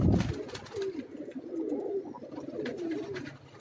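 Ferozpuri pigeons coo softly on a rooftop, a few low rolling coos repeating steadily at close range after a brief knock at the start, with no one talking.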